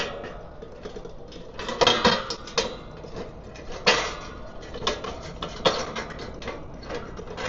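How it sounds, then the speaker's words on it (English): Metal lid of an 11000 BTU kerosene heater being turned onto its handles, giving a series of light scattered metallic clinks and taps, close and fairly quiet with no talking. "Just rotate it until the handles go back through the lid"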